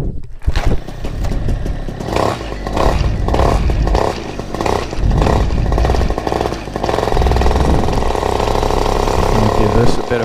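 A paramotor engine and propeller run up before a test flight in Elkton, Kentucky, roaring loud and close with a rough, pulsing throttle that rises and settles, while a voice is briefly heard beneath it.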